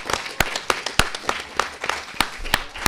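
Applause for a visiting school at a science outreach talk, heard as sparse, irregular sharp claps spread over a few seconds, fairly close and without voices.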